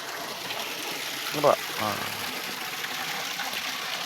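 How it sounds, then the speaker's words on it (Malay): Rain-swollen water runs through a garden drain channel, spilling over a miniature waterfall as a steady, moderately close wash; someone speaks briefly over it. "Kita ada miniature air terjun."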